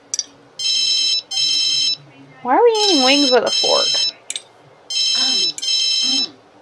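In The Sims 3, a telephone rings in repeated paired electronic bursts with short gaps between them, while a person talks over the ringing in the middle.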